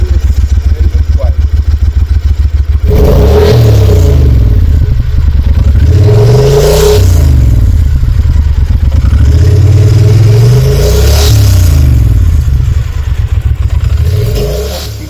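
A Triumph Thunderbird Storm cruiser motorcycle engine, loud and close, holding a steady lumpy idle and then swelling through repeated throttle blips, each rev rising and falling in a deep rhythmic roar.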